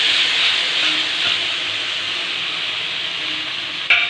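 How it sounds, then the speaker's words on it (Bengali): Ginger, garlic and onion paste sizzles in hot oil with a steady, close, bright hiss throughout and a brief sharper crackle near the end, with no voices. "প্রথমে আদা রসুন পেঁয়াজ বাটা দিয়ে দিলাম।"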